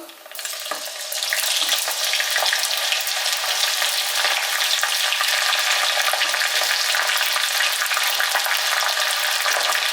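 Loud, dense sizzling as chopped fresh ginger hits hot oil for garlic pickle, a continuous crackling hiss that holds steady throughout.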